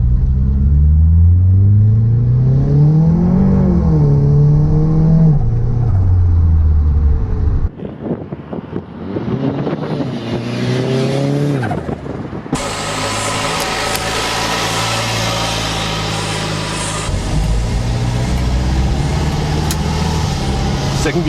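A Datsun car's engine revs hard while driving and climbs through the gears with loud rising and falling drones. The engine cuts briefly at a gear change and then pulls strongly again, and someone talks over the noise.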